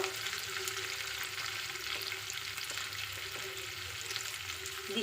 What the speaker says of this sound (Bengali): বিনসটাকেও এই কড়ান তেলের মধ্যে দিয়ে দিচ্ছি